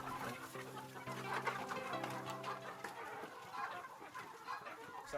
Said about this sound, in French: Ce sont des poulets de 3 mois.